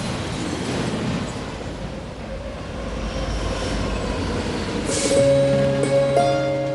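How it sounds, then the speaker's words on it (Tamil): A train pulling out of a station, with a steady low rumble and broadband noise that swells toward the end, where horn-like sustained tones come in. No one speaks. "சரி, நீ உள்ள வா, ட்ரெயின் கிளம்ப போகுது."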